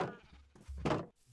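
A sheep bleats twice in Minecraft, close and fairly quiet, with a wavering nasal call and a short pause between the bleats.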